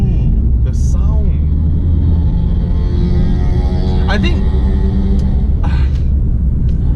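A BMW M4 F82 fitted with an Akrapovič exhaust drives by with a steady, deep engine rumble throughout, partly under people talking.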